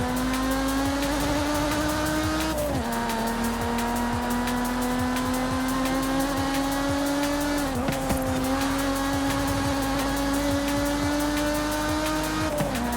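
Lotus Exige driving in the Forza Horizon 5 racing game, a steady high-pitched engine drone held at near-constant revs, with brief dips at gear shifts around three and eight seconds, continuous and without talk.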